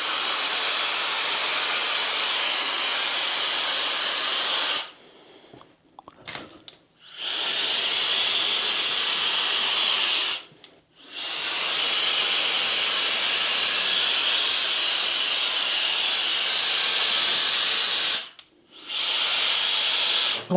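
A GooLoo cordless air duster with a short nozzle blows bigger chunks of wood in long, loud, high-pitched whooshing blasts, several seconds each, split by brief silences and faint clatter of debris.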